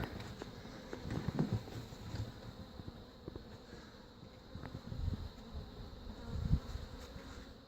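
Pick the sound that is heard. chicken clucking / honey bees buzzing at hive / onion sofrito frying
honey bees buzzing at hive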